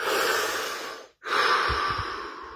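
A slow, deep breath during guided relaxation: a long close inhale, a brief pause, then a steady drawn-out exhale.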